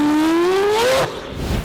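A powerful car engine revs in one rising, whining sweep that climbs for about a second and then drops away abruptly.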